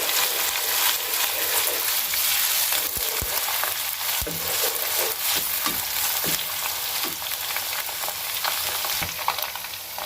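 Garlic frying in hot oil in a karahi for Peshawari tomato chicken karahi, a steady close sizzle throughout, with occasional stirring knocks and scrapes.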